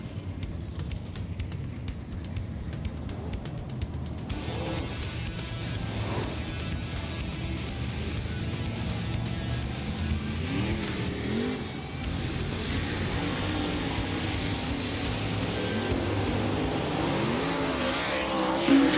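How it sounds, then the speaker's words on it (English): Dirt track race cars on hot laps at Volusia Speedway Park, a continuous roar of several engines revving and rising in pitch as they circle, loud and sustained throughout. "drivers tickling the throttle around Volusia Speedway Park"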